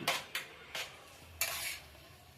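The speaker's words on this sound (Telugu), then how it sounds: "ఇప్పుడు బాగా తిరగబెట్టేసి" Onions with a spoonful of turmeric stirred in a pan, giving three or four short scraping, sizzling strokes of a spoon against the pan, close and fairly quiet, with no talk.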